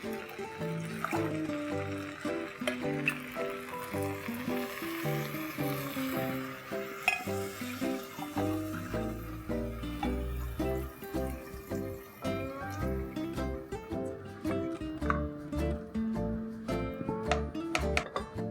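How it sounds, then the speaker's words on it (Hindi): Water is poured from a mug into a pressure cooker holding rice and vegetables for veg pulao, with soft liquid splashing, sizzling and stirring at low volume over a gentle musical background, with no talking. "इसी मग से मैं 2 मग पानी डालूंगी।"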